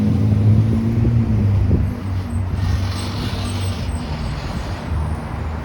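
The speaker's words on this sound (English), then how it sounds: "That car was loud." A loud car passes along a busy city street in midtown Toronto, a rumbling engine swell up close that fades into steady traffic noise.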